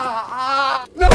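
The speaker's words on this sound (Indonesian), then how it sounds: "Charlie terlebih dulu menyiksa Frank dengan menembak kedua kakinya" In a film action scene, a sustained strained vocal-like tone cuts off abruptly, then a single loud, close gunshot blast bursts out at the very end.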